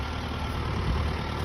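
A tractor engine runs nearby at a steady idle, a deep continuous rumble with a slight swell in the low end partway through, heard alone without talk.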